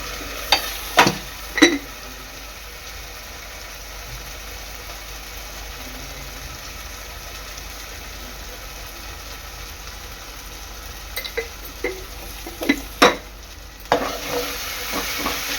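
Ground spice paste fries in hot oil for a mixed-vegetable bhogichi bhaji, with a steady close sizzle throughout and occasional sharp clinks of stirring against the pan.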